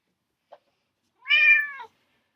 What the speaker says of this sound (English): My cat is going to break my computer.